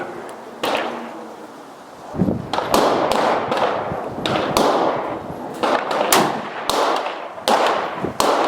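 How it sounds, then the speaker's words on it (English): Loud .500 Magnum revolver shots firing 350 grain Underwood ammunition at a Level 3 body armor vest, a series of sharp cracks spaced a second or so apart with a trailing boom after each, close and with little talk. "going to do a level 3 vest now with the 500 Magnum, the 350 grain Underwood ammo, and see if this can penetrate level 3."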